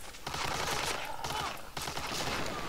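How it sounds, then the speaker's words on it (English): A grenade explodes in Medal of Honor: Allied Assault, heard as a loud, dense burst of blast and battle noise that fills the whole stretch with crackling debris and gunfire-like clatter. "Let's throw a grenade in."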